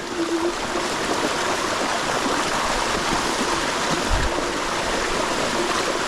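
A Cyrusher Kommoda 2.0 e-bike ploughs through deep water and mud on a farm, giving a continuous rushing, splashing wash of water that stays loud and steady throughout with a brief low thump partway.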